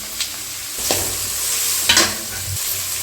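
Onions sautéing in a pan for village-style egg tikka masala, a steady close sizzle with a few louder scrapes and knocks of the spoon as they are stirred, no voices.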